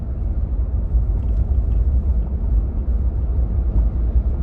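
A 2021 Jeep Wrangler Sahara Unlimited rumbles steadily through a corner, a loud, low, continuous engine and road drone heard from inside the cabin, with no speech.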